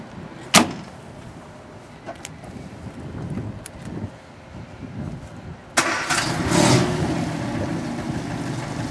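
A 1953 MG TD sports car engine cranks and fires up, with a sharp door-like thump near the start, then a loud catch into a steady idle over the final few seconds, close by.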